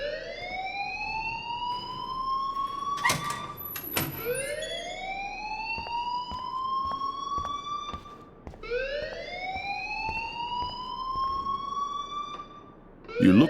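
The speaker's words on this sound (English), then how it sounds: "please turn off that alarm since that's your job" A looping alarm from the video game Life is Strange: three long rising electronic wails, each swooping up and holding a steady tone, separated by sharp clicks and bangs, with a brief low voice at the end.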